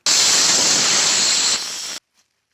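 A drywall texture sprayer with a medium nozzle, its knob opened three turns, blasts a loud, steady hiss for about two seconds at close range, then cuts off abruptly into silence.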